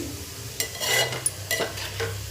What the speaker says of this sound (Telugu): గోల్డ్ కలర్ రంగు వచ్చే వరకు వేయించుకోవాలండి